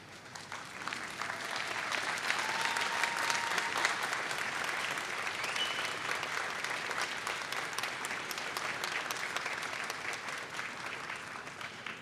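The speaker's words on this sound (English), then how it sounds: "give a round of applause to those who helped you on this journey." Sustained applause from a large university commencement audience, a steady wash of clapping that holds evenly throughout without a break.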